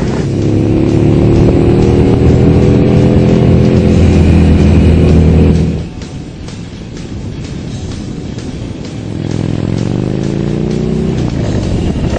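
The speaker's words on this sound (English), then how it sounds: "you can crack the throttle and blast down the road like a muscle bike" A 2012 Harley-Davidson Dyna Switchback motorcycle engine revs hard and loud with rising harmonics, drops to a lower rumble as the rider shifts, then climbs again in a second acceleration, all close and without talk.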